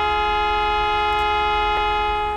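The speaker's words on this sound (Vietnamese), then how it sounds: "Còi liên thanh luôn các bạn" Sustained, loud multi-tone bus horn blaring continuously in Minibus Simulator Vietnam, a steady chord-like honk held for the whole stretch with no gaps, alone without talk.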